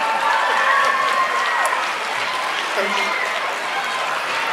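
Audience applause at a children's science show with liquid nitrogen and a giant drum crush, a steady wash of clapping from a crowd filling the whole stretch, with voices mixed in underneath.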